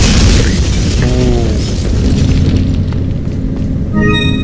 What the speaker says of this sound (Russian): Придется мне использовать гранаты